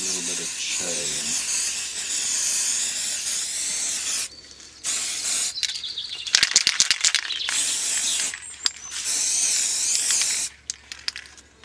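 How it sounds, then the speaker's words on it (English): Aerosol spray paint can hissing in long bursts, loud and close, broken by short pauses and rattling shakes of the can, with a voice speaking briefly at the start. "When you finish spraying, you turn the thing over, the can over, and spray this way."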